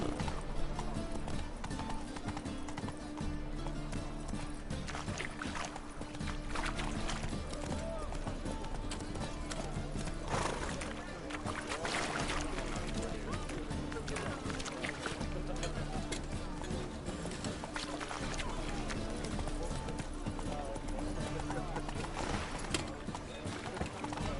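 Roach, Geralt's horse in The Witcher 3, gallops with a steady clip-clop of hooves under continuous game music and ambience, with a voice speaking over it.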